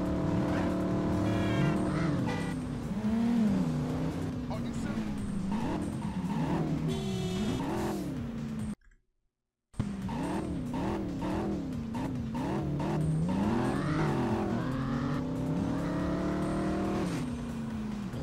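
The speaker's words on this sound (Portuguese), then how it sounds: "Pô, esse carro aí é top, hein?" Car engine driving in the Driver: Parallel Lines video game, a loud revving motor climbing and dropping through gear changes with tire squeals, briefly cut out midway before resuming.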